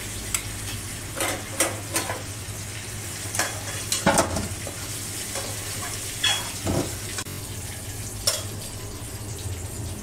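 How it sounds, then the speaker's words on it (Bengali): Pumpkin pieces with salt and turmeric fry in hot oil with a steady sizzle, broken by repeated sharp scrapes and clacks of a spatula stirring in the pan. "একটু নুন দিয়ে আর একটু হলুদ দিয়ে আমি মিষ্টি কুমড়োগুলো ভেজে নেব"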